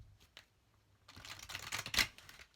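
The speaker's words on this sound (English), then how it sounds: "And let's see the shuffling." Quiet start with a couple of soft ticks, then a burst of rapid papery riffling, cards flicking together, peaking in a sharp snap before fading.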